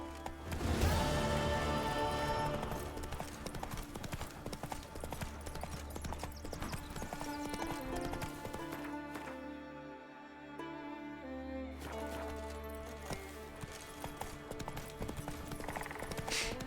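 Geralt's horse Roach galloping in The Witcher 3: Wild Hunt, a steady rhythmic clip-clop of hooves under game music, fading briefly midway before resuming.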